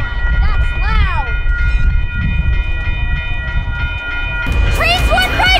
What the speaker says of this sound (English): Trains went right through my city.